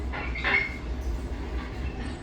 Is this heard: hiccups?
no